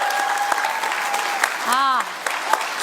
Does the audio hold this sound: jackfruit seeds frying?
no